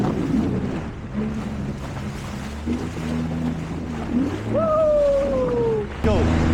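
A jet ski rides over sea waves in the Grand Harbour of Valletta, Malta, at sunset: a steady engine drone with water and wind rush, rising into a louder, higher whine near the end, with voices faintly mixed in.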